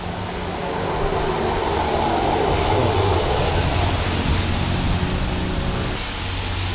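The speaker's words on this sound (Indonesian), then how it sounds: "Puncak lagi hujan, anginnya kencang lumayan" Dense, steady roaring noise of strong wind mixed with rain on a foggy mountain at Puncak, Indonesia, a continuous loud wash with no clear breaks.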